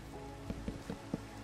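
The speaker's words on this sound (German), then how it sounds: "und jetzt regnet es auch noch" Rain falls in Minecraft as a steady hiss, with a few soft, evenly spaced thumps underneath and no voices.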